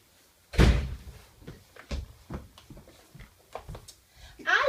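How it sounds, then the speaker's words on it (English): A door shuts with a single loud thud near the start of a classroom reading lesson, followed by a teacher reading a story aloud. "Aya, can you please close the door?"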